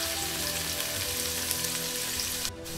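Garlic sizzling and frying in a pan alongside mung beans and udon, a loud, dense, continuous crackle close by, with a brief pause just before the end.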